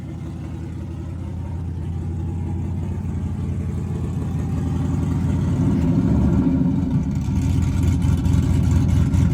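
A burnout truck engine runs continuously nearby, a deep rumbling drone that grows louder and rougher as revs build toward the end, with no talk.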